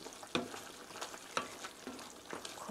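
Spaghetti tomato sauce with added salt being stirred from the outside inward in a pan, quiet bubbling sizzle under a few soft, evenly spaced scrapes of the spoon, close and faint.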